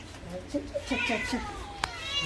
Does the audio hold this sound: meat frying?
no